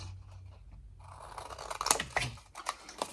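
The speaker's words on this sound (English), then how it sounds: "take your scissors in. And just cut across that score line" Scissors snipping through card along a score line, a quick run of close, crisp cuts after a brief quiet start.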